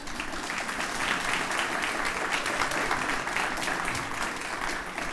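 An indoor audience at a community awards ceremony claps steadily for the selection committee, a dense, even wash of applause from many hands at moderate distance, sustained without a break.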